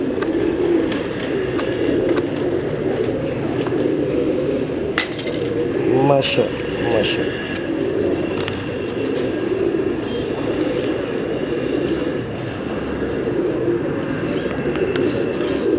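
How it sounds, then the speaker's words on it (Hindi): Low, continuous cooing of many pigeons close by, forming a dense rumbling murmur, with a brief voice speaking partway through. "ये 10 नंबर कबूतर हैं"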